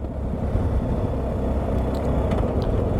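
A car passing on the road, heard as a steady low rumble of engine and tyre noise from inside a moving vehicle, fairly loud throughout with no talk.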